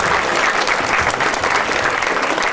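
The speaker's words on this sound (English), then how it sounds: "Can we please have a round of applause for all of our local visiting royalty?" Audience applause for visiting royalty at a small-town Miss Gibbon coronation in 2008, a dense, steady burst of clapping from a crowd, loud and close throughout.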